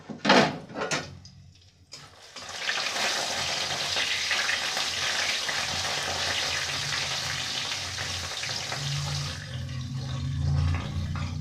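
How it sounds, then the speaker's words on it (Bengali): Bori, sun-dried lentil dumplings, frying in a pan for a mustard-poppy eggplant curry: after a few brief knocks, a loud, steady broadband sizzle sets in close by and holds for several seconds, then drops away near the end. "আগে আমি বড়িগুলোকে ভালো করে ভেজে নিচ্ছি"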